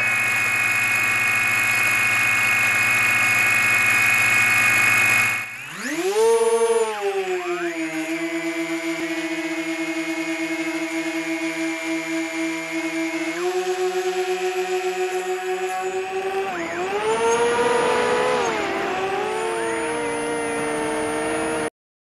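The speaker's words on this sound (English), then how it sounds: "Engine on." A small electric motor spins up with a rising whine beside a FrSky Taranis X-Lite radio controller, holds a steady buzzing pitch, then revs up and down near the end, alone and fairly loud.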